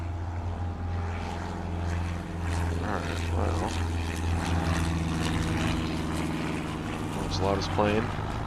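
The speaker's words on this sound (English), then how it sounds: "Loudest plane." A loud propeller airplane drones overhead above farm fields, its engine roar steady and rising, with people talking faintly underneath.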